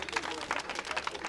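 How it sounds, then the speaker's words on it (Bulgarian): Applause for the showmen at a race track celebration, a short burst of dense steady clapping from a crowd throughout. "Аплодисменти за тези шоумени."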